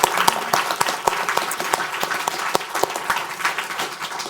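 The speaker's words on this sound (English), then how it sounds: "So just a huge round of applause to you all." Steady applause from a symposium audience on girls' education research and policy, many hands clapping densely and evenly at close range, with no voices over it.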